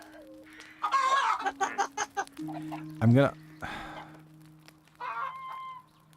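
Chickens cluck and squawk in New World, the fantasy MMO, during a Halloween-season night session, with bursts of bird calls mixed with people talking over them.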